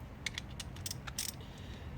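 A socket wrench ratchets in a few quick, light clicking bursts while working on the shifter of a 2001 NB Mazda Miata, close and faint.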